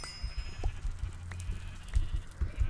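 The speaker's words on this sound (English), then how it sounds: "We almost burnt these sheep to death" Blocky Minecraft sheep bleat in short repeated calls within a beta survival multiplayer world, the baa sounds standing out over low rumbling game noise and background sound.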